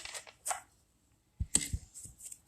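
Two quick bursts of tarot cards being shuffled, crisp riffling close by, separated by a brief silence.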